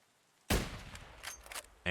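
Gunfire in a shooter game while hunting rogues: a loud sharp shot breaks a quiet moment, followed by fainter scattered reports and another sharp crack at the end.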